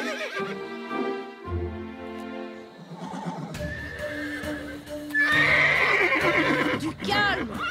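A cartoon pony gives a loud, bright whinny along with clip-clopping hooves, mixed with animated dialogue and music in a children's adventure scene.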